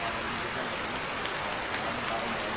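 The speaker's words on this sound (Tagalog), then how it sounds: "Tapos umuulan pa" Steady rain pattering through a forest, a continuous hiss of drops on leaves and surfaces, even and moderately quiet with no voices.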